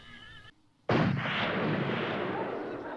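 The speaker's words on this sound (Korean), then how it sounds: "갑자기 캠프에서 총성이 들려오고" A gunshot rings out at a desert camp in a film scene: one sudden loud blast after a brief silence, trailing into a long, rumbling echo.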